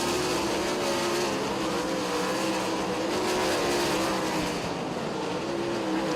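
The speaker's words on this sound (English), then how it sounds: "Closest race on the track between Jordan Strickler and Glendon Forsyth" Race cars passing on the Lincoln Speedway track during a Labor Day race, a loud continuous engine roar with rising and falling revs as cars sweep by, steady and dense throughout.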